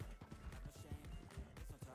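Horse hooves in the Red Dead (RedM) roleplay game clop in a steady, rapid rhythm through the whole stretch, close and fairly loud, as the horse is pushed along.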